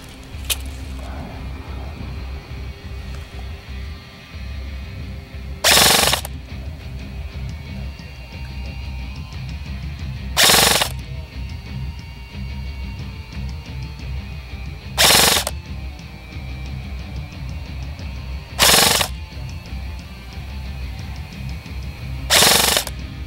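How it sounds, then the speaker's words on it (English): An Umarex VFC HK416 airsoft rifle fires downrange in five short bursts spaced several seconds apart over a steady outdoor background hum. "We're gonna shoot our buddy downrange and see how it does at effective combat range"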